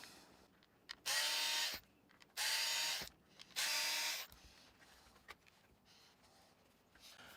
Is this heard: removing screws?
yes